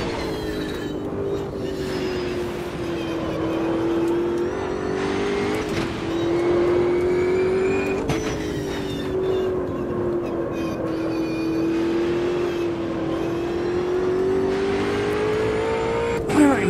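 A race car drifting in the Automobilista 2 video game, its engine holding a steady, wavering high-revving drone with slight pitch swells throughout, loud and continuous, with brief tyre and gear noises.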